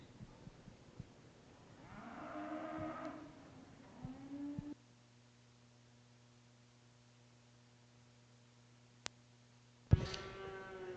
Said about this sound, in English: Well, Sam, it's kind of fun watching these bigger cows, isn't it?